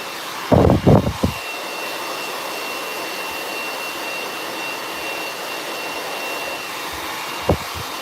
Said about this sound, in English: So we are at the blow dry step.